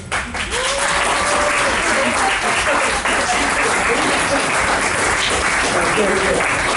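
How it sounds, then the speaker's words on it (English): Loud, sustained applause from a sizeable audience fills the room, with a few voices calling out over the clapping. "And realize this round of applause is for you, Jesse."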